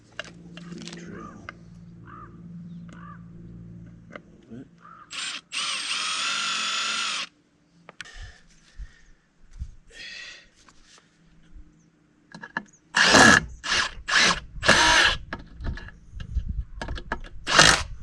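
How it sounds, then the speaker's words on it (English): Power drill boring during construction of a shelf over a creek for a retaining wall, several short high-pitched whining bursts between quiet pauses, with clanks, knocks and some speech. "Drill."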